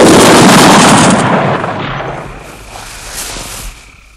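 A firing squad's volley of rifle gunfire rings out loud and close, one dense burst that decays into a lingering echoing tail with faint scattered crackles.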